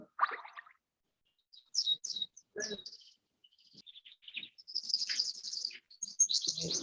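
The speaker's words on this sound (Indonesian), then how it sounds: "Itu ada suara burung." Small birds chirp and tweet in short, high bursts with quiet gaps between them, faint and somewhat distant, heard over a muted online classroom call.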